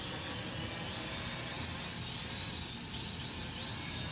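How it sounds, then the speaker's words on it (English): A small JJRC H39WH foldable drone's propellers whine steadily outdoors on a street, a constant broadband buzz rising slightly as the craft flips, close and fairly loud with no talking. "You can hear those props really working when it flips or rolls"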